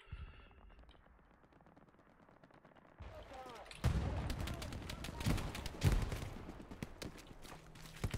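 Machine gun fire in Hell Let Loose, a World War II shooter: a quiet opening gives way to loud, rapid automatic bursts and heavy impacts, close and crowded with battlefield noise, with voices talking at times.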